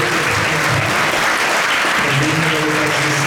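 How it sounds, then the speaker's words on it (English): A crowd gives dense, loud, continuous applause after an evening lecture at a Toronto temple gathering, sustained throughout with some voices mixed in. "Let's do a big round of applause"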